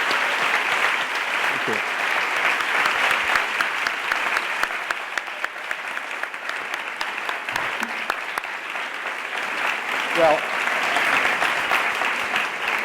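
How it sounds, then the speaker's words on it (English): Steady applause from an audience fills the room after a talk on big questions and storytelling, moderately loud and continuous, while someone briefly speaks a few words over it. "The applause is yours."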